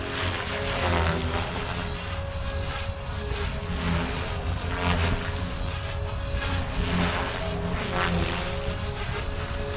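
A Blade Fusion 360 3S RC helicopter, running Spektrum 6250HX with 5.6 firmware, flies continuously with a steady whining rotor and motor drone, loud and close throughout, with no talking.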